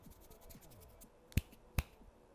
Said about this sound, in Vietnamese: Quê quá các bạn ạ, mình không biết búng tay.